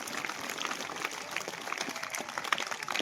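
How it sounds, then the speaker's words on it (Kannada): An audience at a Basava Purana religious discourse claps loudly, a dense, steady patter of many hands that holds for the whole stretch without letting up. "ಅವ್ರಿಗೊಂದ್ಸಲ ಜೋರು ಚಪ್ಪಾಳೆ ಕೊಡಪ್ಪ"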